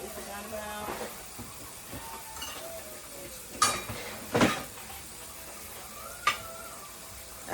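Kitchen dishes clink and clatter as a measuring cup is pulled out, with several sharp ceramic and metal knocks over a quiet room hum and faint sizzling.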